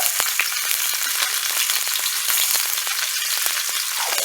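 Zucchini sizzles steadily in a hot pan while frog legs are being prepared, a dense crackling fry with small pops scattered throughout, close and continuous with no voices.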